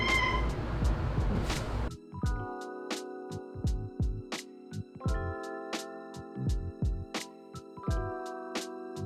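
A cat meows a few times up close, with a burst of louder noise at the start and steady tonal music playing under the meows.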